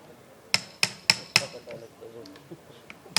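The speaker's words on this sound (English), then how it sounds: "Be gentle while hammering." Sharp metallic hammer blows on bone during an orthopaedic knee surgery workshop: four quick, loud strikes in a steady rhythm, then fainter scattered knocks and background activity, with a final strike at the end.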